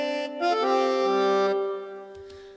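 Two sampled concertina parts from Eduardo Tarilonte's Era library play together, layering reedy sustained chords that shift once or twice before tailing off, followed by a few soft low tones, heard alone at moderate volume.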